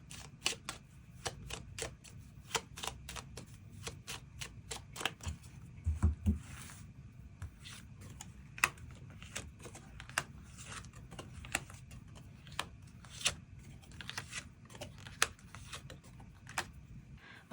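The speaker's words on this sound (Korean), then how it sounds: "추가 카드로 일별로 월요일부터 일요일까지 어떤 하루하루를 보내게 될지 추가 카드 뽑아보도록 하겠습니다" Tarot cards are drawn one after another, producing a long run of quick, dry card snaps and flicks at a close, fairly regular pace.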